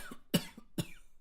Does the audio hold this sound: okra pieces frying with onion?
no